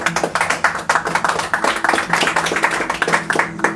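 Applause from a church congregation welcoming a guest named Jean-Jacques, a close, lively run of individual claps with a quick, uneven rhythm that keeps going to the end, with a few voices faintly underneath.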